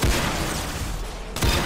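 Gunshots in the Roblox shooter Arsenal, a loud burst at the start and another near the end with dense rumbling noise between, no talking.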